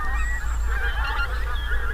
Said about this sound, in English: Thousands of geese, mainly pink-footed geese, are feeding up for migration at exactly this time of the year.